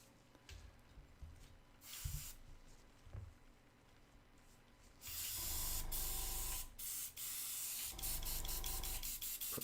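An airbrush spraying cleaner through its nozzle while being cleaned after painting miniatures, a loud close hiss that begins partway in and runs in several sustained bursts with short breaks, after quieter handling noises.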